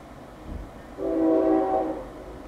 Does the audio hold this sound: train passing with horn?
yes